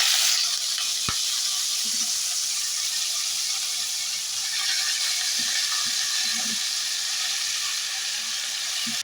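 Chopped bottle gourd dropped into hot oil tempered with bay leaf and cumin for a fish-head lau ghonto, giving a loud, steady sizzle and hiss that carries on alone, with a sharp clatter early on and soft utensil taps.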